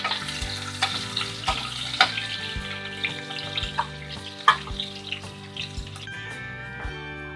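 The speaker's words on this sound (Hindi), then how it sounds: "तेल गर्म हो चुका है और इसमें कुछ हम खड़े गरम मसाले और संग में ही हम प्याज डाल देंगे और इसको अच्छे से हम भून लेंगे" Whole garam masala and onions frying in hot oil in a pan, a steady crackling sizzle with occasional pops, running under background music.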